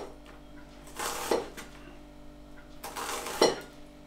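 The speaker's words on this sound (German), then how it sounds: "So, die schneide ich jetzt in so große, schöne" A knife cutting tofu into large pieces on a board, two distinct close chops with clinking contact about two seconds apart, otherwise quiet.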